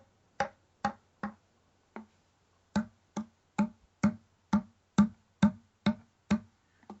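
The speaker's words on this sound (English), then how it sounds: "I'm tapping the end of the call in the palm of my hand and getting a sound like this" An elk grunt tube call is tapped against a stiff palm, giving a series of about thirteen sharp, hollow knocks in an uneven rhythm, close and clear against silence.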